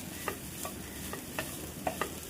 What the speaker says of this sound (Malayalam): നന്നായിട്ട് നമുക്ക് സോട്ട് ചെയ്ത് കൊടുക്കാം